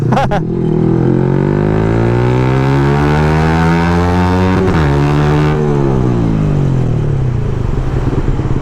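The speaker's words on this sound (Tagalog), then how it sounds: "kung okay pa ba yung takbo ng motor na to" A motorcycle engine running in slow traffic, loud and close, its revs climbing steadily and then easing off in one continuous drone with no talking.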